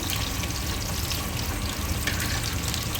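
A half-kilo fish fries in a pan until golden, giving a steady, close, continuous sizzle and crackle of hot oil with no talking.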